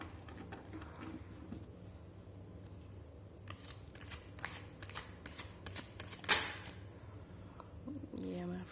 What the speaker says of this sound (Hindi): तो या मैंने कार्ड शफल कर लिए हैं।